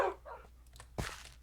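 A Minecraft dog gives a short, sharp bark near the end, following some faint earlier yips, with no talk.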